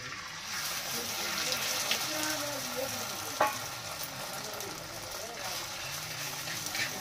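Hot oil fries on a large tava with a continuous hissing sizzle and one sharp clink partway through, while a person talks underneath.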